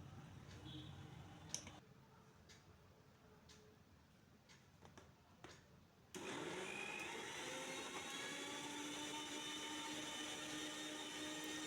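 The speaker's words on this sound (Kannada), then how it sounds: "ಈಗ ಗ್ರೈಂಡ್ ಮಾಡ್ಬೇಕ್ರಿ 1 ನಿಮಿಷ ಇದನ್ನು" Mixer grinder with a juice jar blending orange pieces with a little water, a loud steady motor whir that starts abruptly partway through after quiet clicks and handling noises.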